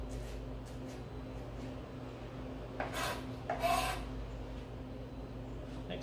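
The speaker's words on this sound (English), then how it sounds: "And then roughly cut it into very small pieces." Knife roughly chopping a small piece of ginger into tiny bits on a board in a kitchen, heard as a couple of brief, soft scraping strokes over a steady background hum.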